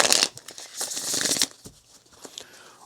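Tarot card deck being shuffled, crisp papery riffling and flicking in quick bursts up close, loudest early then trailing into softer taps and rustles.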